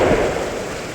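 Heavy rain pours down with a low rumble of thunder underneath, a dense steady wash that is close and loud for a brief moment.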